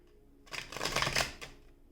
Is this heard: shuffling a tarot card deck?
yes